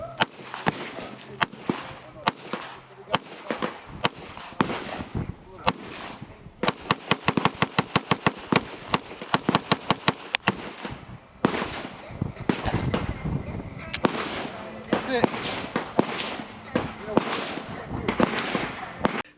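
Sharp gunshots from a Brigade BM-9 9mm pistol with a 5.5-inch barrel and a Glock magazine, fired outdoors in a long run of rapid, evenly spaced shots broken by pauses. They are loud and close, with wind noise and some talk in between.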